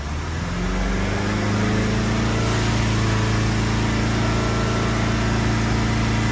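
A Mazda car engine revving up to and holding about 3,500 RPM during a workshop diagnostic, a loud, close, steady drone that rises in the first second and then stays even, with no talk.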